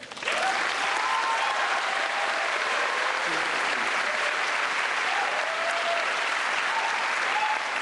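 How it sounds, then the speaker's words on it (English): Sustained applause from a commencement audience, a dense steady wash of clapping filling the hall at even loudness throughout, with faint background voices. "You can applaud."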